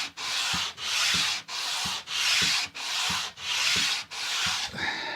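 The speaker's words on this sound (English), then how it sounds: "just going to use a bit of the abrasive Smurdex just to 240, just to sort of smooth that out a little bit" Hand sanding with Smurdex 240 grit abrasive during a workshop build, heard as eight steady back-and-forth strokes, each a loud, close rasping scrape separated by brief pauses, with no talking.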